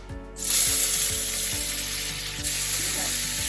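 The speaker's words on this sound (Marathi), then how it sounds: "आता तेल तापलेले, यामध्ये जिरे टाकायचे अर्धा चमचा." Cumin seeds drop into hot oil and burst into a bright, close sizzle that holds steady, with a few soft clicks of a utensil against the pan and no talking.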